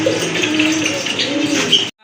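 Pigeons coo steadily at a dealer's loft among many birds, a continuous layered murmur of soft calls with brief brighter chirps, fairly close and ending abruptly.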